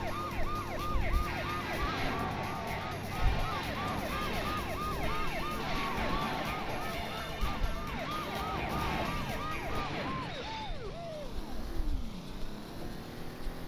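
A police car siren from the Driver 2 video game wails in a rapid repeating cycle throughout, mixed with engine and driving noise, steady and moderately loud.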